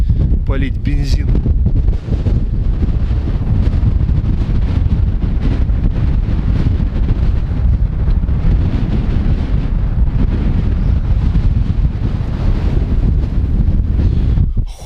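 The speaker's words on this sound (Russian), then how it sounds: "Холодно, конечно, ветрище просто дикий." Strong, wild wind blasts across the microphone outdoors on a cold goose hunt in Kazakhstan, a loud continuous roar with a brief voice at the start.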